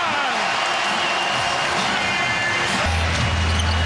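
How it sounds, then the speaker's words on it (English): A sellout basketball crowd keeps up a steady, dense buzz with scattered cheers and ball bounces, running beneath a commentator's ongoing talk. "the sellout crowd today still buzzing"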